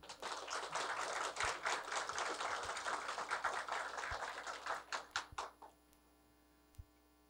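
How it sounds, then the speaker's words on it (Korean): Audience applause at a school-violence prevention education forum in Gwangju, a dense steady clapping from a hall crowd that runs loud for about five seconds, then thins into a few scattered claps and fades out. "우리 이정성 교육감님께 격려의 박수 한번 부탁드립니다."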